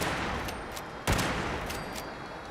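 Lever action rifle gunfire in Fallout 76, with one sharp, louder shot near the middle among fainter repeated pops, and no talk over it.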